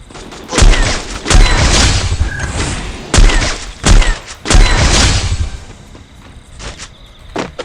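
Rifle shots from an AWM sniper rifle fire in the video game PUBG as a series of loud, sharp booming reports in irregular bursts, with a few separate spaced shots and no talking.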